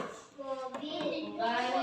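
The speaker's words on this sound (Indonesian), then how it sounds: "Ayo tepuk tangan untuk kelompok 2." A classroom of children claps for a group of classmates, a short burst of brisk hand claps mixed with children's voices and chatter.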